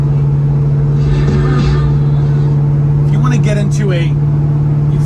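A 1971 Oldsmobile Cutlass Supreme engine hums steadily while cruising at about 60 miles an hour with light throttle, a constant low drone running under a voice the whole time.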